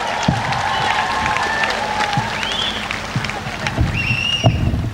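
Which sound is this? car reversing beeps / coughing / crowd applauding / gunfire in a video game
crowd applauding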